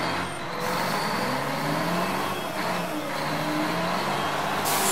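A garbage truck driving, heard as a loud, steady engine rumble with broadband hiss that fills the whole stretch without pause, close by and with no voices.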